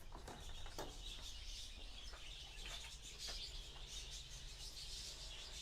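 Birds chirp inside a zoo exhibit in the morning, with scattered faint tweets and calls over a steady background hiss, distant and quiet with no talk.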